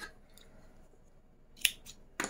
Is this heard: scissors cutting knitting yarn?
yes